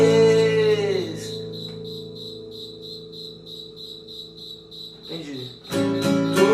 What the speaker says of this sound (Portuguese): trocando ideia com o grilo da geladeira